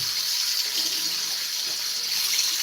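Lukewarm water pours steadily over a bathing cockatiel, a continuous close splashing hiss like a running tap, with no talk.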